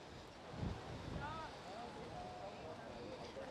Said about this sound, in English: And the wind is really picking up now.